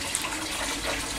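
Water pours steadily onto potting mix in a mini greenhouse, moistening it for Hoya australis cuttings: a brief, even, close splashing rush with no other sounds.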